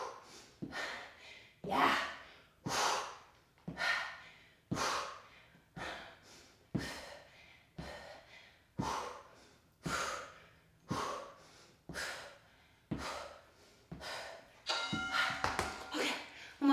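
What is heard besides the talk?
heavy breathing during a cardio workout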